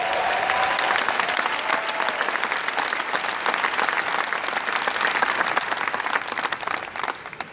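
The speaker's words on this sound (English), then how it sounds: "Could you give yourselves a round of applause?" A conference audience breaks into loud, sustained applause, dense continuous clapping from a large crowd that holds steady throughout with no speech over it.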